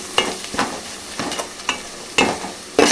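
A pan of chicken cooking in oil, stirred with a spoon that gives irregular scraping strokes over a soft sizzle, close and moderately loud with no voices.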